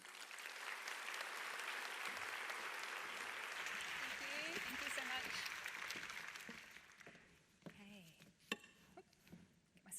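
Audience applause welcoming a professor at an evening environmental science talk, a broad sustained clapping from a crowd lasting several seconds, then fading as a voice begins speaking.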